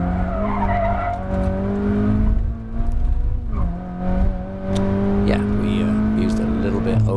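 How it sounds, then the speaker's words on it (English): A 2020 Toyota 86 GT's small engine is revved hard around a race track, a loud sustained high-pitched drone that dips briefly mid-lap before climbing again, with faint tyre noise underneath. "That little engine is just screaming along here."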